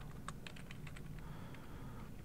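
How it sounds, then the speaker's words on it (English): Soft, quick clicks of typing on a computer keyboard in an irregular run of keystrokes, faint and close under a steady background hiss. "if I want to continue typing, I can continue typing here."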